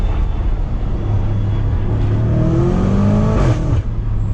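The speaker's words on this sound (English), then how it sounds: "Let's floor it again." BMW F90 M5 at full throttle, its engine roaring loud and close from the cabin as the pitch climbs steadily through the pull, with a brief surge near the end.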